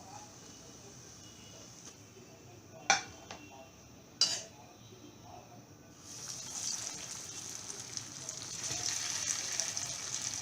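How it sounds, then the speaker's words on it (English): Dahi kebabs frying in a pan on a stove over medium-to-low heat: a couple of sharp utensil clinks early on, then a soft, steady sizzle that rises and fills the second half. "in this way I will fry the rest of my dahi kebabs"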